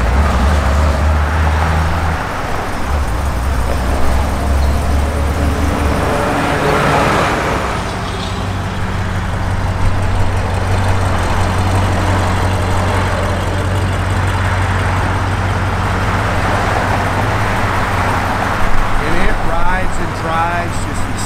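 A 1970 Plymouth Road Runner cruises along with a steady low engine drone and road rumble, while someone talks continuously over the sound from inside the car.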